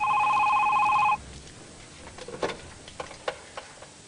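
A telephone bell rings with a steady electronic trill for about a second, then stops, followed by faint clicks and handling noises in a quiet room.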